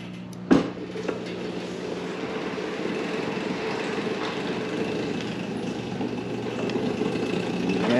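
A quad driven by a Golden Hypertorque motor on a test ride gives a steady, droning motor hum with a mechanical whine, opening with a sharp clunk.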